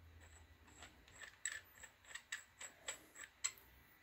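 Metal pipe counter electrode being screwed into a fitting, giving quiet, evenly repeated ratcheting clicks and scraping ticks, close and faint, with no voices.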